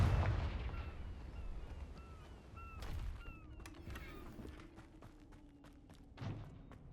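In Hogwarts Legacy, a Confringo spell fires off fiery explosions: a loud opening blast, then further booms and whooshes, with faint chirping game effects and bright crackles layered over the ambient game sound.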